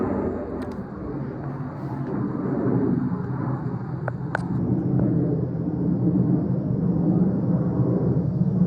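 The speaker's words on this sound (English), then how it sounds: "That's an airplane over there." An airplane flies overhead near a school with a row of air conditioners, a broad low rumble that swells and holds steady, loud and close, with a couple of brief clicks and no talking.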